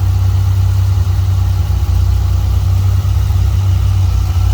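A 1996 Dodge Viper RT/10 V10 engine idles steadily with a deep, even low rumble, loud and close, unbroken throughout with no voices.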